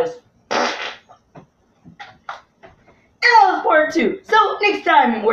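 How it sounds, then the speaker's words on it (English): A single loud, buzzy fart noise bursts out early during a game of Mario & Sonic at the Olympic Winter Games, amid scattered quiet clicks, before a person talks at length. "ew, you farted!"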